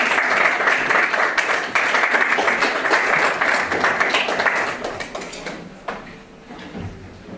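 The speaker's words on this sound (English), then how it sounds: "Let's give them a big round of applause" Audience applause at a young adults church service as a band is welcomed onstage, loud sustained clapping from a crowd that fades out over the last couple of seconds.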